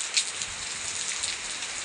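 Steady rain falls during the Dasain festival season, a dense even patter of drops on surfaces with a few brighter splashes, close and continuous with no voices.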